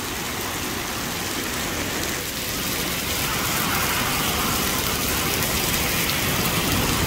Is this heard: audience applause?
no